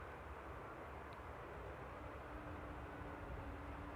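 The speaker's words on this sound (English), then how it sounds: "a very, very smooth touchdown" Airliner landing at Amsterdam Airport, heard as a steady, broad roar of jet engine and rushing air at moderate distance, with a faint low tonal hum running through the touchdown and no voices.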